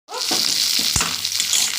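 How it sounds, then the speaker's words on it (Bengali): Steady hiss of onions frying in a hot pan for a fish curry, with a brief clink of a utensil partway through. "পেঁয়াজটা ভাজা হোক ততক্ষণ"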